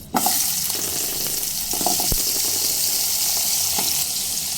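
Potatoes frying in hot oil in a pan make a steady, close sizzle with a few light clinks of stirring, and no voices.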